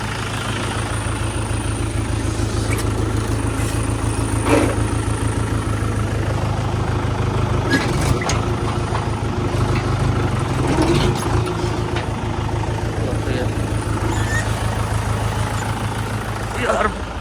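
A tractor engine idles with a steady, low, continuous rumble that holds unbroken throughout, close by, while voices talk over it now and then.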